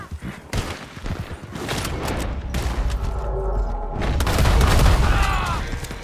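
Gunfire in a video game: bursts of loud, rapid shots and booms come close together over several seconds, with a faint voice in the background.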